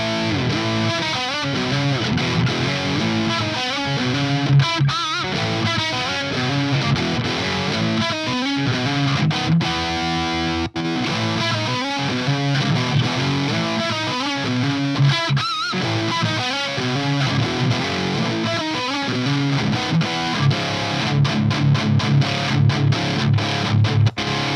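Electric guitar played through a Hughes & Kettner TriAmp Mark 3 amplifier, giving a loud, continuous distorted high-gain tone with chugging riffs and a brief pause midway.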